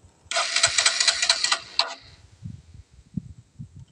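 A motorcycle self-starter cranks repeatedly in fast whirring pulses for about two seconds without the engine catching, loud and close, followed by low mechanical rattles and brief quiet sounds.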